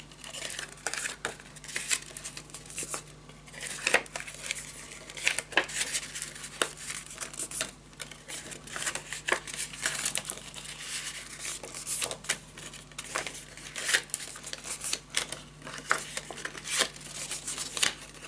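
Paper for a spooky-season pop-up scrapbook album is folded and creased by hand, producing repeated soft crinkles, rustles and sharp crisp snaps at irregular intervals, close and fairly quiet over a low steady hum.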